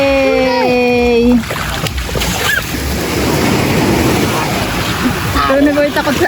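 Surf washing onto a beach in General Nakar, Quezon, a steady broadband roar of breaking waves under wind, with a child's and adults' voices talking and calling over it near the start and end.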